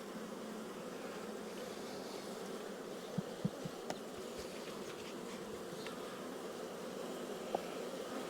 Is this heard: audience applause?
no